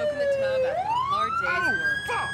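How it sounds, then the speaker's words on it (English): Police car siren in the GTA 5 video game, a wailing tone that dips and then rises steadily, loud and near, with traffic and background voices underneath. "Get the siren off."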